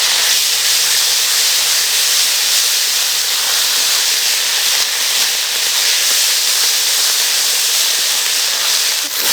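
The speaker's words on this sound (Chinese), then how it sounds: "炒起来，" Kung pao chicken with bean paste stir-frying in a hot wok, a loud continuous sizzling hiss that stays close and steady throughout, with no talk over it.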